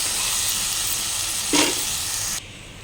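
Ivy gourd (tindora) frying in a kadai gives a loud, dense, steady sizzle of hot oil, close up, with a brief stir-like swell midway before the sound drops to a quieter hiss at the end.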